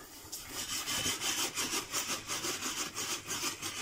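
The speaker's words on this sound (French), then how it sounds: "les Italiens, ils font ce mouvement-là pour mélanger le risotto" Asparagus and mushroom risotto stirred in a pan with a quick back-and-forth motion, making a rapid, rhythmic rasping scrape that pulses steadily at close range.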